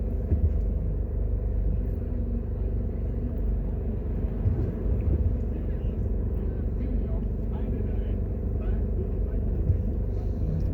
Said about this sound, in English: this will give you an idea of what the traffic is like